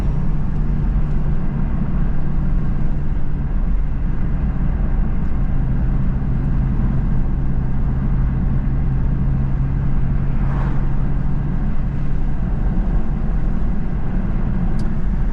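A Honda Civic Type R FL5 turbo drives with the windows down, giving a constant loud low engine and road drone with wind rush heard from inside the cabin.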